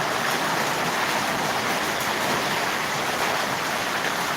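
Heavy rain pours down and water flows beside it in a steady, dense hiss that stays even and loud throughout, with no voices.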